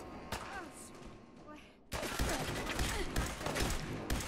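Gunfire in the Fallout video game: a sharp shot early on, then a loud burst of rapid shots that keeps going over a noisy backdrop, with a voice briefly audible.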